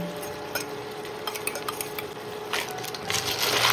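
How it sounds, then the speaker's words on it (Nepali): Snails stir-fried in a pan as a paste of green garlic, green chili and coriander goes in, with a continuous sizzle, scraping stirs and light metallic clicks that grow louder toward the end. "हरियो लसुन, हरियो खुर्सानी र धनिया पिसेको हाल्न गइरहेको छु"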